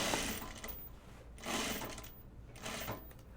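Close, steady whirring from a sewing machine stitching a fabric storage bin, rising and falling in three pulsing runs. No one talks.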